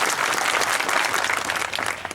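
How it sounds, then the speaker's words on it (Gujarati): A crowd at a Thakor community get-together claps loudly for Chandubhai Shihora, the Surendranagar member of parliament, in a dense, steady burst that tails off slightly at the end, with no voices heard. "એકવાર જોરદાર તાળીઓ ચંદુભાઈ માટે પાડી."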